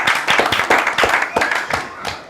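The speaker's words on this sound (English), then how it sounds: "So let's clap for it." A few people clap in an uneven, rhythmic pattern, sharp individual claps close by, about a dozen over two seconds and growing lighter toward the end.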